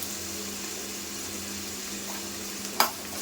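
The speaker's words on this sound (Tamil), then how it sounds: "ஒரு 20 சின்ன வெங்காயத்தை போட்டு நல்லா வதக்கிக்கலாம்" About twenty small onions sauté with ginger and garlic in a village-style pan, giving a faint, steady sizzle throughout with a brief clatter of stirring near the end.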